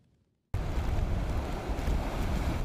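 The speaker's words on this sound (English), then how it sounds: "Didn't expect to have this much water with this little wind." Gusty wind and rushing floodwater during a nor'easter with coastal flooding, a loud broadband roar that starts abruptly after a moment of near silence and continues steadily with heavy mic buffeting.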